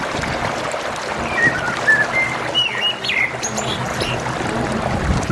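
Birds chirp at a nesting site in Douai, with several short, clear tweets standing out over a soft outdoor background hum.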